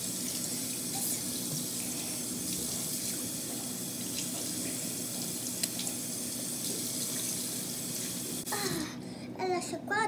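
Tap water runs steadily into a bathroom sink as someone rinses their face during a night routine, a continuous close splashing stream that ends with a few brief spattering bursts.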